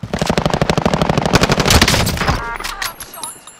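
Rapid automatic gunfire rattles in a dense burst during a battle royale video game match, continuous and loud before trailing off into faint game effects.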